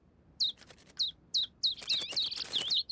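Small birds chirp at a backyard birdhouse in a Family Guy cartoon scene, quick high tweets repeating at a steady pace and then overlapping into a busier chorus, close and clear.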